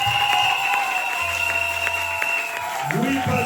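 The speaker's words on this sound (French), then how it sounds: "Applaudissez pour le Seigneur." A church wedding congregation applauds amid other steady sounds, with a voice speaking over the clapping.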